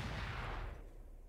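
Shots from a shaped-charge high-explosive anti-tank weapon fired at a wall in a ship-building video game, a loud dense burst of explosive blasts that fades quickly near the end, with no talking.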